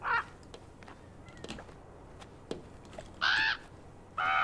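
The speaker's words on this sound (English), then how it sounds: "There's a bird wanting to go inside." A bird near the general store in the Draugen game caws loudly and close, three harsh calls spread apart, with faint clicks and ambient sounds between them.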